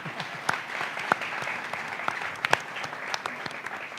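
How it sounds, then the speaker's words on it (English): Audience applause at a Freedom Day dialogue event at the Apartheid Museum in South Africa, a steady dense clapping wash with a few sharper nearby claps standing out, filling the whole stretch without speech. "can you also give yourselves a round of applause?"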